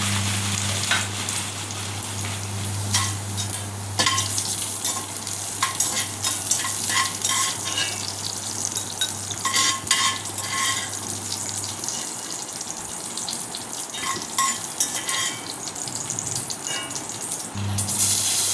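Ripe nenthra plantain fries in ghee in a pan for a sweet curry, a steady close sizzle broken by repeated scraping and clattering as the pieces are stirred, with no talking.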